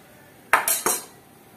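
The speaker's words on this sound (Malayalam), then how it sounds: "ഒരു ഉരുളി എടുപ്പത്ത് വെച്ചിട്ടുണ്ട്." A small uruli cooking pot being set down on a stove, three quick metallic clanks in close succession, near and fairly loud, then quiet.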